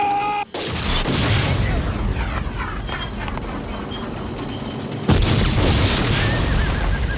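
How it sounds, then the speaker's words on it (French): Heavy tank cannon blasts from an Indiana Jones film scene boom out in a dense, rumbling barrage, with a sharp loud burst near the end over continuous battle noise. "Chaque tir de canon du tank fait vibrer les murs de ma salle de projection."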